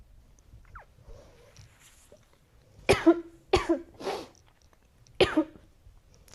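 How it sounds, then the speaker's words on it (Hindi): After a quiet stretch, a person coughs in a short cluster of four harsh, close bursts, choking on chocolate stuck in the throat. "चॉकलेट लग गई गले में, इसीलिए खांसी आने लगी।"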